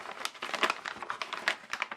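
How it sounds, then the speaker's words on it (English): A thin plastic bag crinkles and rustles in close, irregular bursts as it is handled to hold worm feed, with no talking over it. "I'm going to put it in a plastic bag."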